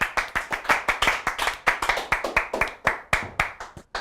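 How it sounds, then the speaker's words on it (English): A small studio audience claps for a guest introduced on a comedy gaming show, sharp irregular hand claps in quick succession, close and fairly loud, continuing steadily and tapering slightly near the end. "Please clap it up for Brian McGuinness, guys."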